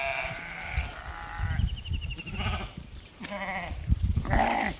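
Several goats bleat across a village yard, their wavering calls rising one after another at close to moderate distance over a low rumble of farm background noise.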